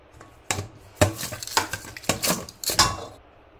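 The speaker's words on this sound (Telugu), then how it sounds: "ఇప్పుడు దీనిలోకి కొద్దిగా చక్కెర అయితే వేసుకొని అయితే మిక్స్ చేసుకోవాలి." Sugar being stirred into watermelon juice in a bowl, with a utensil scraping and clinking against the dish in several distinct bursts, close and fairly loud, no voices.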